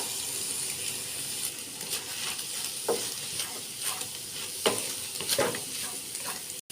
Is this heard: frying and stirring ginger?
yes